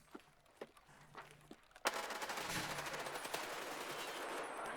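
Gunfire in Escape from Tarkov Arena: a few faint single shots and footsteps, then a sudden loud burst of sustained rapid automatic fire that continues to the end.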